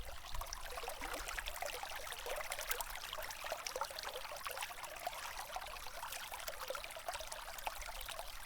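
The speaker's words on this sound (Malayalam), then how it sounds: "വെള്ളത്തിൻ്റെ സൗണ്ട് കേൾപ്പിക്കാൻ വേണ്ടിയിട്ട്." Water of the Kottiyoor river flows gently past a microphone set close by, a soft, steady trickling and babbling that stays faint but continuous.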